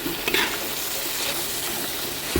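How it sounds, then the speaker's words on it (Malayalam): Food being stirred in a hot pan with garam masala, ginger and green chilli: a steady, close sizzle and frying hiss with a few light scraping stirs, no voices. "നല്ല രീതിയിൽ ഇളക്കാം"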